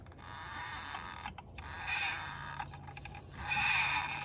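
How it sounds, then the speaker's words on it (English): A C-clamp twisted by hand slowly pushes a brake caliper piston back during a brake pad change, giving a close, steady creaking and groaning with a few brief quiet breaks and no talk. "I can just twist the C-clamp. I can hear it going in there."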